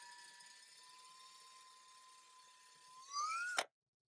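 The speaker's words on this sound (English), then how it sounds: "just drill to the depth that you need" A power drill whines at a steady pitch, then rises and strains as the bit bites into wood, ending in a sharp crack before it cuts off to silence.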